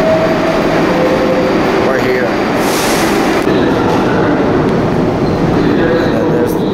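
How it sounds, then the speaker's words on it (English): Underground New York subway train at the 50th Street and Broadway station, a loud continuous rumble and rattle of the railcars filling the platform, with people talking briefly over it. "So it's like an underground train."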